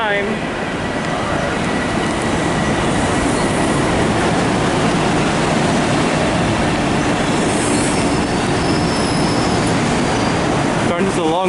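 A train rolls past loudly and close in New York City, with a steady roar of wheels on rails, faint squeals and clatter throughout.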